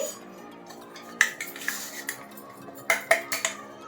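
A spoon mixes powdered sugar into green gram flour in a bowl, giving scattered clinks and scrapes of metal on the dish, with quiet stretches between brief bursts of stirring.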